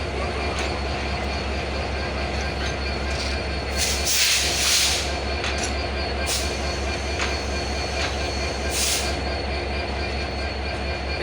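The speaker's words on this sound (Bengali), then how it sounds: "সান্তার থেকে ছেড়ে আসা পঞ্চগড়গামী 767 দোলন চাপা এক্সপ্রেস ট্রেনটি বর্তমানে পার্বতীপুর জংশনে ইন করলো" Dolanchapa Express, a passenger train bound for Panchagarh, rolls into Parbatipur Junction with a loud, steady rumble of cars and wheels, metallic squeals and clicks coming through the roar nearby.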